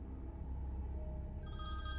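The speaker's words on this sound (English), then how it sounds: "I'm woken up by the phone ringing" An old telephone bell in a motel room starts ringing partway through, a bright, clear ring cutting in over a low background hum.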